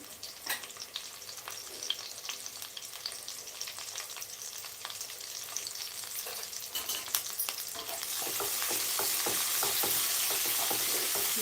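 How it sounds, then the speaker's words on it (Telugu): Green chillies and curry leaves fry in hot oil in a pan, a continuous close sizzle with crackles and stirring scrapes that swells into a louder, denser hiss toward the end, with no speech. "పచ్చి వాసన పోయేంత వరకు ఇవన్నీ ఫ్రై అయ్యేంత వరకు వేసుకోవాలి"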